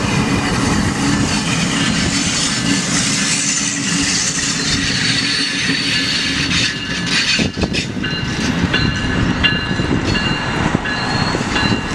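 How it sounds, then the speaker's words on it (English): An Amtrak regional commuter train running between Chicago and Quincy passes a rail junction in Galesburg, Illinois, a loud continuous rumble with rattling cars, clickety-clack and squealing wheels throughout. "Here we are at a Y, where we see one of Amtrak's regional commuters"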